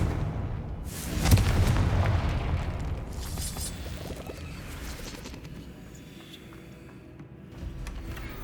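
A Confringo spell blast in Hogwarts Legacy booms loudly and close, followed by a rumbling, crackling decay that fades over several seconds.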